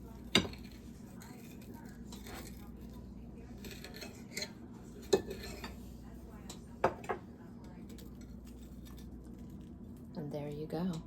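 Knife cutting through a patty melt in a pan: several sharp scraping clicks against the pan spaced a few seconds apart, then a short sizzling rustle, with a voice speaking over it.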